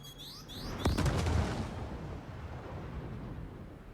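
Two size 3 missiles strike a Buccaneer ship in a space game: a rising whoosh, then a sharp impact and a heavy rumbling blast that slowly fades, moderately loud.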